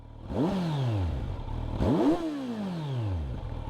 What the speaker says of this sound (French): On fait des petits retours, je savais même pas qu'elle faisait des retours.